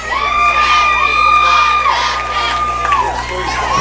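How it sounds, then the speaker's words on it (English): Spectators at a John Milledge Academy high school football game cheering and whooping, a loud close crowd roar with shrill rising and falling yells and children's shouts layered throughout. "the crowd here at John Milledge Academy is excited and on their feet"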